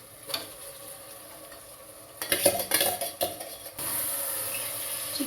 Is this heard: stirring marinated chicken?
yes